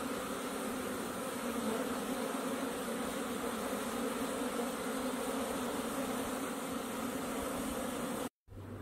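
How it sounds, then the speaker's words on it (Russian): Honeybees fly around hives at an apiary on a sunny April day, a steady close buzzing hum that continues unbroken before cutting out briefly near the end. "а пчелки все летают"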